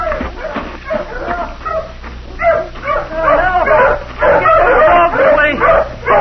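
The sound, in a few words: dogs barking with a posse in a radio drama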